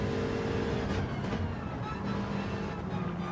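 A race car engine in Gran Turismo 7 at Spa, driven with short shifting to save fuel, holding a continuous loud engine drone with a slight drop in tone around a gear change, no talk.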